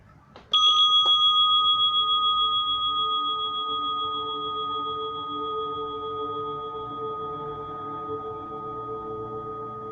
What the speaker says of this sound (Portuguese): começa com o toque de um sino